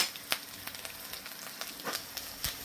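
Meat fries in hot oil in a pot during a pot barbecue, giving a continuous hissing sizzle broken by scattered sharp pops and spits.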